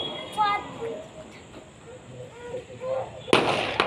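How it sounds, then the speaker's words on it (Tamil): Firecrackers go off during a Deepavali celebration, one sharp loud burst near the end after softer crackles and distant pops, with voices talking throughout. "இப்போ தான் பட பட படம் வெடிக்க போகுது பார் காதை அடிச்சுக்கோப்பா"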